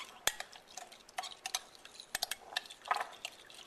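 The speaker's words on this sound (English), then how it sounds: "Just stir it around." A spoon stirs yeast and sugar in a small dish, making light scattered clinks and taps against the sides with faint liquid swishes, quiet and irregular, and no one speaks.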